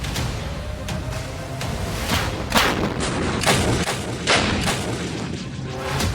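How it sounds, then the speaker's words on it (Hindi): Indian Army artillery, a mounted gun system and an advanced towed artillery gun system, firing in a series of loud booming blasts spaced about a second apart, each one rolling off into a lingering rumble. "एक तरफ MSG यानी माउंटेड गन सिस्टम और दूसरी तरफ advance toad artillery gun system."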